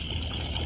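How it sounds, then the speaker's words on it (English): Vinegar pouring into a pitcher, a brief steady gushing splash of liquid, close and alone. "Pour some vinegar into a pitcher."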